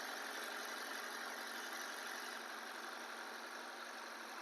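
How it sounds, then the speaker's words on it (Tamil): A petrol four-cylinder BS6 car engine idles at a steady, even hum, with constant low vibration throughout and no other sounds. "இதுதாங்க பெட்ரோல் இன்ஜினோட சவுண்டு."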